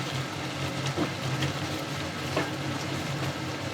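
Crushed garlic sizzles in a hot pan while being stirred into a baked pasta dish with minced meat and vegetables, a steady soft hiss with occasional scraping stirs and no voices.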